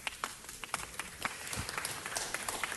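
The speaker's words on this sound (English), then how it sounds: "Let's give them another big round of applause." Scattered clapping from a small group at a city council meeting, a steady patter of individual claps at moderate distance without voices.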